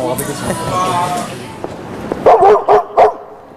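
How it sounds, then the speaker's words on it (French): A few sharp, loud barks from an Afghan hound ring out near the end, following a stretch of indoor chatter and background voices. "c'est le chien afghan qui est avec nous, là."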